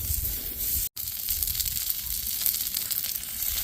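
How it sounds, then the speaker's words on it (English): Oil sizzles and crackles steadily on a hot flat top griddle, a close, dense frying hiss with one brief dropout near the start. "we're sizzling"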